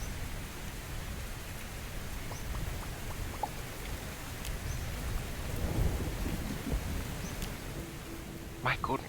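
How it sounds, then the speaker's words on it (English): Steady rain and low rumbling thunder fill a Starbound game world as a broad, continuous wash of noise with a few brief crackles. "My goodness, that rain is rather loud."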